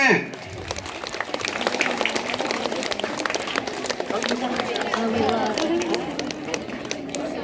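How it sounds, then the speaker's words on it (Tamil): An audience at a government high school annual day prize ceremony claps in a sustained, dense burst for a needle-threading contest's winners, with voices mixed in over the applause. "கைத்தட்டுங்க"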